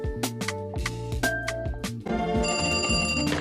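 A telephone rings with bright, bell-like repeating tones while a call goes through to a law school exam helpline, loud and steady with no talking.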